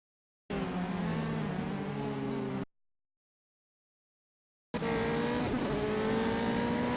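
Formula 3 race cars on a flying lap at Hockenheim scream past in two loud bursts of engine noise with a pitch sweep, divided by a few seconds of silence.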